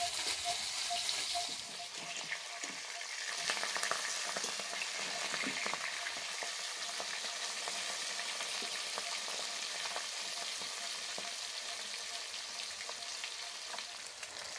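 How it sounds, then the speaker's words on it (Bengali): Pabda fish fry in hot oil with a steady, dense sizzle and crackle that carries on throughout, close and continuous with no talking. "তেলে দিয়ে দিয়েছি, চড়বড় চড়বড় করে ফুটতে শুরু হয়ে গেছে।"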